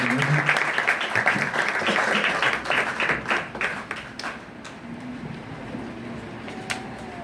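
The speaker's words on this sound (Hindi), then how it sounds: "आपकी भरपूर तालियों में वेलकम करेंगे" An audience at a youth meeting claps to welcome a speaker, the applause loud at first and then thinning out into scattered claps and quiet room noise.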